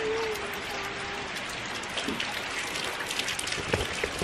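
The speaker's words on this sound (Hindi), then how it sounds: "ये बारिश ना मतलब जबरदस्त हो रही है बाहर में" Heavy rain falls outdoors in the Uttarakhand mountains, a dense continuous hiss of drops drumming on surfaces with scattered louder splashes, and a brief faint voice early on.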